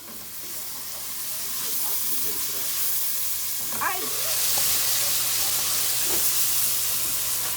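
A teaspoon of turmeric sizzling in a pan for kitchari while being stirred, with a steady hiss that swells a little, a brief scrape midway and faint background sounds.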